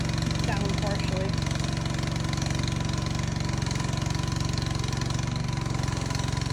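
A radio-controlled mower's engine runs steadily with its cutting deck partly lowered, a loud, even mid-pitched drone with rapid regular pulsing, while people talk over it.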